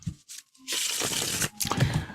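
A deck of cards being shuffled on a live psychic radio broadcast, a burst of riffling and rustling lasting about a second, followed by a second shorter flurry, close and fairly loud with no talk over it.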